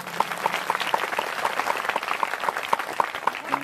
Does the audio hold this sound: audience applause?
yes